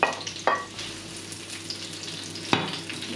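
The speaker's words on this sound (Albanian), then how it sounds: "Në tigan kam shtuar vajin dhe do shtoj specat. Do skuqim avash specat." Peppers frying gently in oil in a frying pan, a soft continuous sizzle close by with two sharp clatters of the pan or utensil, no voices.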